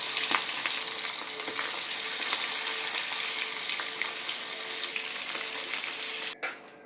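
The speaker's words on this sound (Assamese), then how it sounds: "মাছখিনি ইয়াত দি ল'লোঁ আৰু মাছখিনি পূৰা ফ্ৰাই কৰি নিদিওঁ, অলপ হাফ ফ্ৰাই কৰিম" Pieces of fish half-fry in hot oil in a wok, a loud, steady sizzle with scattered pops that runs unbroken and cuts off abruptly near the end.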